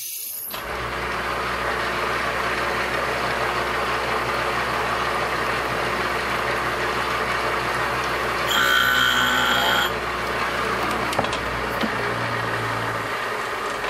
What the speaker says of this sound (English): we're going to try and fix this by resurfacing the bolt, and we're going to do that here with our machine.